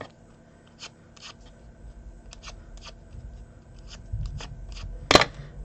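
Scissors blade drawn along paper to curl it for a handmade jewellery gift box: soft, quiet scrapes and rustles in a near-silent room, ending in one sharper, louder scrape near the close.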